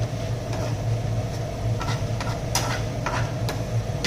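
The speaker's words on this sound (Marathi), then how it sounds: "तर आपण टाकतो पॅनवर टाकून थोडा वेळ मिक्स करायचं" Eggs stirred and cooking in a hot pan, a steady low sizzle with soft scraping stirs and a few brief clinks, close and continuous with no talk.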